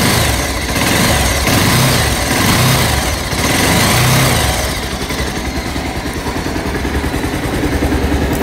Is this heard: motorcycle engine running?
yes